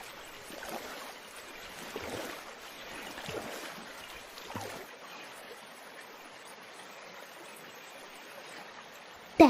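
A small boat glides across water out to where water lilies grow. A faint, steady wash and ripple of water continues throughout, with a brief sharp knock at the very end.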